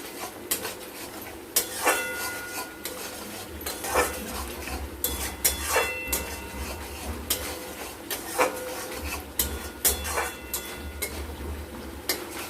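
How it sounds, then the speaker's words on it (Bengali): Masala for a mustard-poppy seed fish curry is stirred and fried in a pan, with repeated sharp spatula scrapes and clinks against the metal over a low sizzle, no talk. "এটাকে ভালো করে মিক্স করে একটু সামান্য আমরা কষে নেব।"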